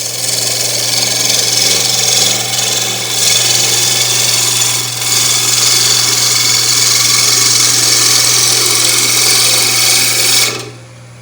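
Cedar container spinning on a wood lathe while a turning tool cuts it: a loud, steady motor whine with continuous hissy cutting noise, close up, ending abruptly.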